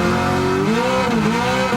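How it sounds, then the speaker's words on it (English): NASCAR Garage 56 Camaro ZL1 race car at Le Mans braking hard from flat out and downshifting to second gear, a loud close engine note dropping and blipping in pitch through the short stretch with no talk. "We start to brake at around 150 meters, down to 2nd gear."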